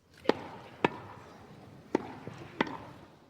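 A tennis ball bounces on a hard surface in a park in four or five sharp, irregularly spaced thuds, close by, with quiet outdoor ambience between them.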